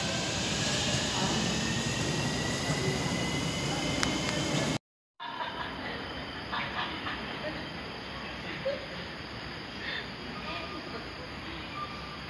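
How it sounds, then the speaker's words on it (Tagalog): Loud, steady rumble and rushing noise of a Kuala Lumpur MRT metro train in motion, with a brief cut partway through and people talking faintly underneath. "ito yung MRT namin. MRT ng KL, oh."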